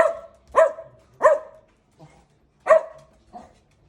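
Dog barking on garbage-truck day, five sharp barks in an uneven series, the third pair closer together, with a couple of softer short yips between them, near and clear with no talk.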